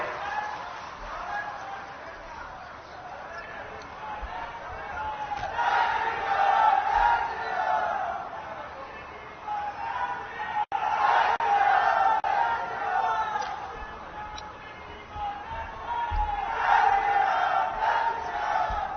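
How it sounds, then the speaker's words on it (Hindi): A large crowd at a political rally welcoming a chief minister shouts slogans in rising and falling surges, a distant, reverberant roar of massed voices lasting the whole stretch. "एक बार माननीय मुख्यमंत्री महोदय के स्वागत में जोरदार नारे लगाएंगे"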